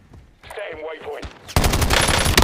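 Rapid automatic gunfire in the Call of Duty Warzone video game erupts loud and dense after a stretch of softer game sounds and a brief voice line.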